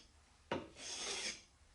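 Lie-Nielsen 112 scraper plane taking a shaving from white oak with a knot, one quiet sharp catch followed by a soft, brief rasping stroke, nearby and alone.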